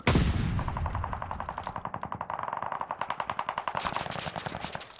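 Rapid bursts of automatic gunfire in Call of Duty: Vanguard rattle steadily for several seconds, loud and close, with sharp repeated shots and a slight echo.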